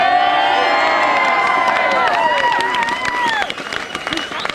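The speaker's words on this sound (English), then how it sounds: "another big round of applause, please" A large audience applauds steadily with cheering and a few high whistles mixed in, a dense wash of clapping that stays loud throughout and thins slightly toward the end.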